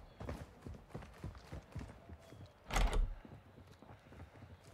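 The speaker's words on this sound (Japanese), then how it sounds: "PMC じゃないよね、この足音。" Rhythmic footsteps thud inside a resort building in the Call of Duty DMZ game, steady and moderately close, broken by one louder heavy knock or bang partway through.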